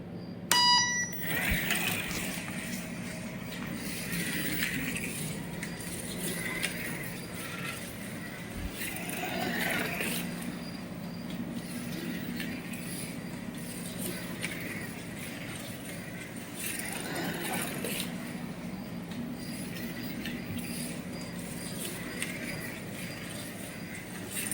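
A Lancia D24 slot car built from a kit, its small electric motor running with a steady, quiet whirring hum throughout, gently rising and falling in pitch as it circles the track.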